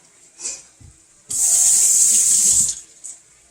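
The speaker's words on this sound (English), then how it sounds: "let me rinse my hand off" A kitchen tap runs for a little over a second as a hand is rinsed beneath it, a close, loud gush of water that cuts in abruptly and stops, with small clinks and drips before and after.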